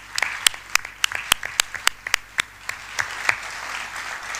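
Scattered applause from a modest audience honoring the Cuban ambassador at a Chávez commemoration, with distinct individual claps popping out irregularly over a soft bed of clapping that thins toward the end.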